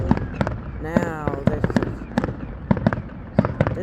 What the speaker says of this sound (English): This is fireworks now.